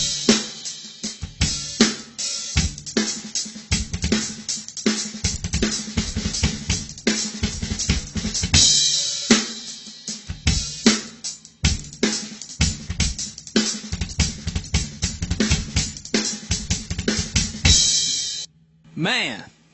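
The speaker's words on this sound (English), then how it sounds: "they like to play the kick and the snare at the same time" A drum kit plays a paradiddle pattern with the kick and snare struck together: a dense, rapid stream of loud, close hits that runs almost nonstop for about eighteen seconds.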